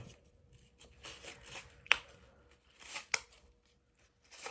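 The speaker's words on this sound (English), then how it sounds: "we love ripping paper." Paper torn by hand for a children's craft, a few brief ripping bursts and crackles close up, with quiet pauses between them and no talking.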